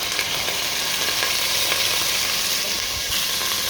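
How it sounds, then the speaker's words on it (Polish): Loud, dense sizzling of washed liver in hot frying lard, a constant close crackle with faint scraping, no talking. "Trochę skwierczy, bo ją myłem."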